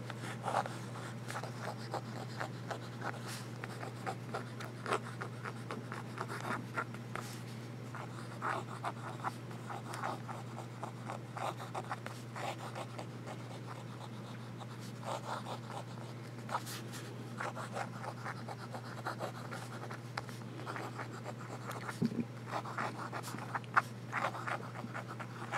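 Lanbitou 3072 fountain pen with a smooth nib writing upside-down on paper, giving soft, close scratchy nib strokes in short irregular bursts over a steady low hum, no talking.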